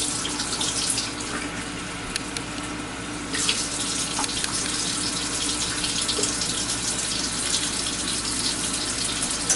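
Tap water pours steadily into a kitchen sink filling for dishwater, a constant close gushing stream with small clinks and splashes and a slight surge partway through, no voices.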